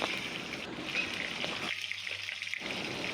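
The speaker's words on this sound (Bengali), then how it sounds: "কড়াইতে দিয়ে দেবো আবার তেল তেলটা গরম হয়ে গেলে তার মধ্যে দিয়ে দেবো কালো জিরা ফোড়ন" Eggplant pieces frying in hot oil with black cumin seeds in a wok, a steady close sizzle with a brief dip partway through before it resumes.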